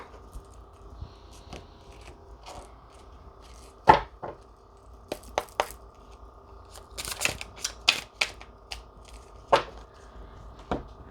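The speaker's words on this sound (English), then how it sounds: "Let me shuffle this a bit more." A deck of cards is shuffled by hand, producing scattered crisp snaps and riffling clicks in irregular bursts, close and fairly quiet, with no talking.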